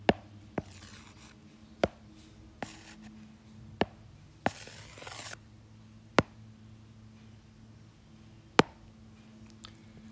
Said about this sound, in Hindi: ये यहां लिख देती हूं।